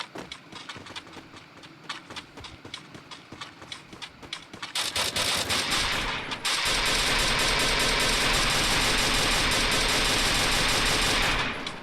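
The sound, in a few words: gunfire in a battle royale video game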